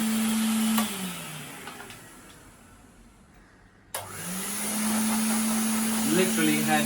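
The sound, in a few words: old Hoover vacuum cleaner running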